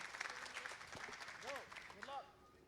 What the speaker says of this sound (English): A big applause for Lucas.